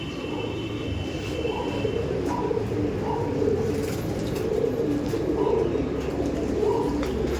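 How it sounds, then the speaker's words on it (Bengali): Several Ablook pigeons in a pigeon loft coo in a low, steady, overlapping murmur that runs throughout, with faint background bird chirps. "আবলুক পায়রা দেখাচ্ছে।"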